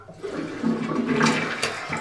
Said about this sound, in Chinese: 冲马桶的声音。